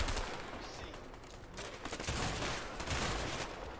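Dense gunfire rattles continuously in a gunfight in the video game A Way Out, with overlapping bursts and shots, while players talk over it.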